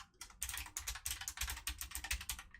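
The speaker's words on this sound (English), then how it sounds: "I'll type it out first" Rapid, steady typing on a computer keyboard, a dense run of close clicking keystrokes lasting a few seconds with no talking over it.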